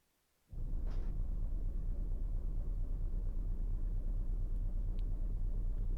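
Supercharged car engine in the BeamNG.Drive driving game starts abruptly and settles into a steady, deep idle rumble, close and loud, with a brief high whine near the start and no speech.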